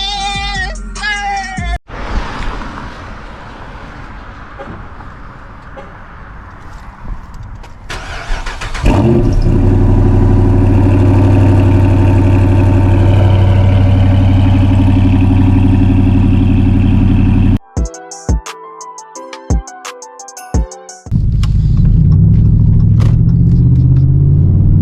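Dodge Charger RT engine starting: a starter crank, then the engine catches and settles into a loud, steady, deep idle rumble that runs for several seconds, broken by a few abrupt cuts before the idle resumes.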